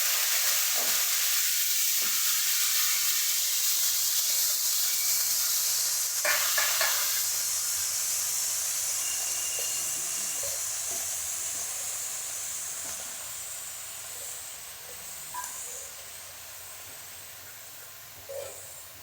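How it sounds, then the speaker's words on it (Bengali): Cabbage frying in hot oil with chilies and spices, a steady loud sizzle and hiss that slowly fades over time, with a few faint clinks of stirring. "তেলে বাঁধাকপি এখন তেলের মধ্যে দিয়ে দেবো।"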